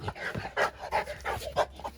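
A dog pants in quick, rhythmic breaths close by, with a few soft whiny vocal bursts mixed in.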